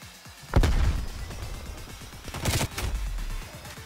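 Gunfire in the shooter game Black Ops Cold War, a couple of heavy bursts of rapid automatic shots with booming low ends, loud and close, separated by a brief lull, no one talking.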